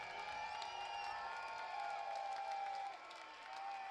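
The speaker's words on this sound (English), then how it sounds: "Crowd is getting loud here in Joliet." Crowd at a minor-league baseball game in Joliet cheering and applauding steadily, a broad wash of voices and claps that swells and then dips slightly near the end.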